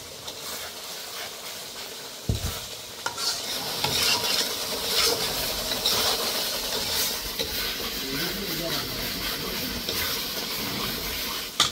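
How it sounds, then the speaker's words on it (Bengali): Spices fry in a pan with a steady sizzle, stirred with scraping utensil strokes and a few sharp clinks of metal against the pan. "মশলা ভাজা হয়ে গেছে"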